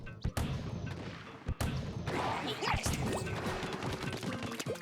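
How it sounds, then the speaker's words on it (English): Cannon firing in the Splatoon single player campaign, a few sharp game blasts over busy splashing effects and music, with a voice talking over much of it. "Hey look, it's a cannon."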